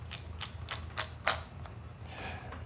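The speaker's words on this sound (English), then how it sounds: "all I have to do is unscrew this piece" Five quick ratcheting clicks come from a bike phone mount clamp as it is unscrewed, sharp and close, followed by a faint soft scrape.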